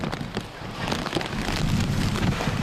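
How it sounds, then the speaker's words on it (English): Heavy rain from Super Typhoon Mangkhut pours down in Hong Kong in a dense, continuous roar of hissing drops, steady and loud throughout. "Heavy rain turned Tai O into a swamp."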